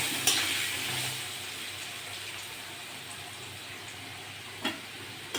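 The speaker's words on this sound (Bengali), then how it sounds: "ভালো করে ভেজে দেবো আলুগুলো" Potatoes frying in oil in a pan while a pangas fish curry is prepared, a steady close sizzle throughout with a couple of brief clinks near the end.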